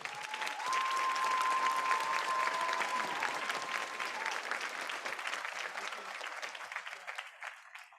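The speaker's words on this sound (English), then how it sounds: "Can we give a quick round of applause for the strongest group of teachers on the planet?" Sustained crowd applause for the teachers and staff at a Texas high school graduation ceremony, loud and dense at first, then gradually thinning out, with a faint voice briefly audible early on.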